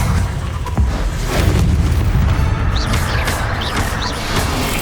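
A Confringo fire spell in Hogwarts Legacy bursts with a loud, rumbling boom that sustains as a dense roar, with crackling bursts layered on top.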